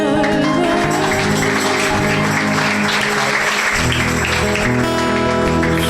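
A church congregation claps loudly and steadily throughout, a dense continuous wash of applause with music sustained underneath.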